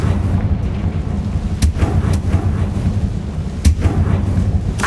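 Blasting spell explosions from the video game Hogwarts Legacy come as several sharp, loud blasts over a deep, continuous rumble, with a few distinct booms standing out from the steady low roar.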